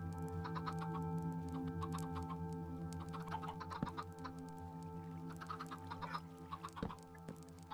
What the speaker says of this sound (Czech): Ať se mají kuřátka dobře.